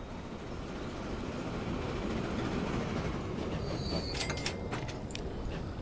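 Train running in the Transport Fever 2 video game: a steady rolling rumble of railway wagons with faint wheel noise, moderately loud and continuous, with a few brief higher squeals near the end.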